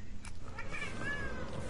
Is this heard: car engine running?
no